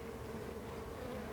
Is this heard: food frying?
no